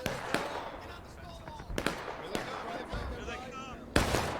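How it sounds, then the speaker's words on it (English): Massed rifle fire from a formation of soldiers in the Civil War game War of Rights, heard as a few sharp, scattered cracks spread across a few seconds, distant to mid-range, with speech over the top. "you can just let loose with the rifles all at once"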